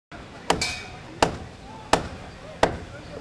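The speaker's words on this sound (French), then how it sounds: "Les deux côtés de la rue de la République résonnent du même bruit, celui des scies, des marteaux, des clous que l'on enfonce" Hammer blows from workers building street stands along a town street, four sharp, evenly spaced strikes about 0.7 seconds apart ringing out over faint background noise, no talking.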